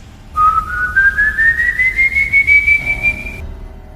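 A single long, eerie whistled tone rises slowly and steadily for about three seconds, loud and close, with a faint wavering pulse and quiet background, imitating the legendary ghost figure's whistle.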